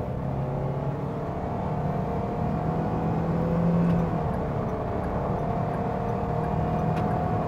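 An MPV accelerates hard from 55 to 100 km/h, heard from inside the cabin as a steady engine drone and road roar whose pitch rises slowly and evenly.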